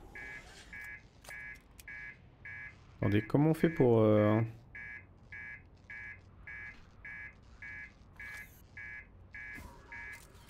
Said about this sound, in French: T'as pas appuyé sur l'alarme principale là?